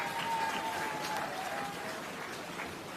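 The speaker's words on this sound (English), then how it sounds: "Please give him a round of applause" Applause from the audience at the FCJ Boundbrook Urban Centre groundbreaking ceremony, a broad, steady patter that holds through the moment, with a faint tonal hum running underneath.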